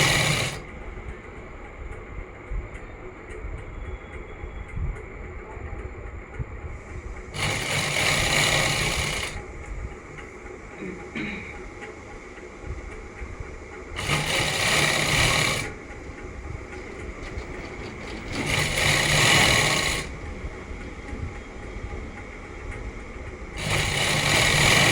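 A sewing machine stitches an Afghani pant in four loud, close bursts of rapid whirring, separated by quieter stretches of low background hum.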